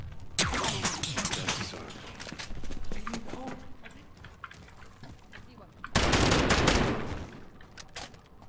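Gunfire in the video game Modern Warfare, with bursts of rapid shots early on and a loud sustained volley near the end, while players talk over the action.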